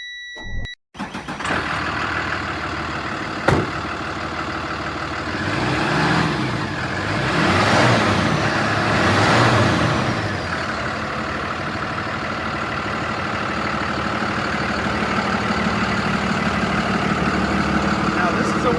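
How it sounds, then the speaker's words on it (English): A 2019 Freightliner M2 work truck with a knuckleboom crane runs steadily nearby, its main engine a continuous rumble that swells briefly in the middle, with faint beeping near the start. "I just want to make sure that everyone hears the main engine and how it runs."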